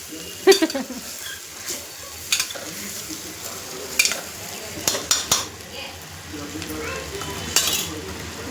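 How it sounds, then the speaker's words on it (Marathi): Onion and spices frying in oil in a pan while being stirred for khichdi, a faint steady sizzle broken by repeated clinks and scrapes of a spoon against the pot. "पहिलं तेलामध्ये कांद्यामध्ये टाकायचं आणि थोडंसं कलसून घ्यायचं"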